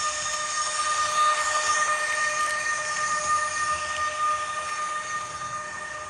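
A Märklin model of a Rhaetian Railway Regio Express runs continuously with a steady rolling rumble and faint high wheel tones, fairly loud and close, with no voices.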